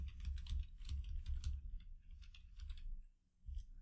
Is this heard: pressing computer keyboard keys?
yes